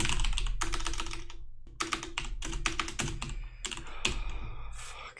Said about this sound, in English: I'm not very quick at typing words that I have to read